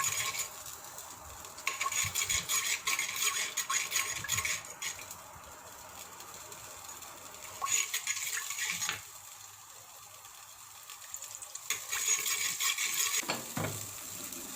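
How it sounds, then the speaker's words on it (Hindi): Cumin seeds sizzle gently in hot oil in a clay pot, a soft crackling hiss that swells and fades in bursts as a spoon stirs and scrapes, close and without talk. "ज़ीरा ऐड करके इसको हल्का सा भून लेते हैं।"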